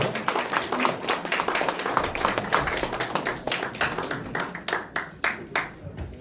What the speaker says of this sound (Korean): 뜨거운 박수로 맞으십시오.